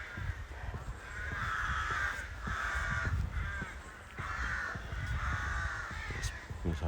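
A flock of crows caws repeatedly overhead in an outdoor nature setting, harsh calls rising and falling in overlapping bursts against steady background ambience.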